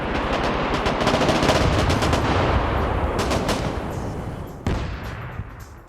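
Heavy gunfire rattles in a video game battle, dense rapid bursts layered with booming blasts from an airstrike, loud and continuous before easing off with a few final sharp reports.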